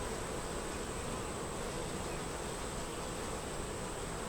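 Honey bees buzzing in an open hive during an inspection, a dense continuous hum of many insects close to the microphone, steady and unbroken with no talk.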